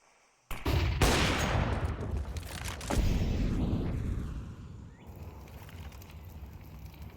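Gunfire rings out in a Counter-Strike crossfire during an ESEA Season 50 Advanced match: a sudden loud burst of rapid shots, then a second volley, fading into a ringing tail.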